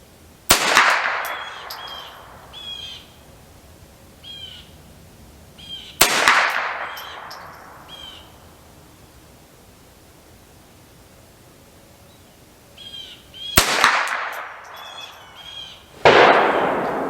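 Shots from a Ruger .22LR rifle firing American Eagle ammunition ring out as four sharp, loud cracks spaced several seconds apart, each followed by a brief decaying echo over quiet outdoor background.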